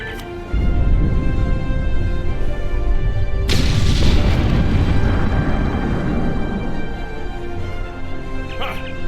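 A rock blasted by an explosion in the Star Trek Online video game, a loud sudden boom partway through that rolls into a long rumbling roar, over a steady game background.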